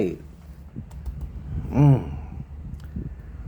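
Fortune-telling cards are flipped open one after another during a reading, giving soft, close, papery clicks and slaps, with a voice speaking briefly over them.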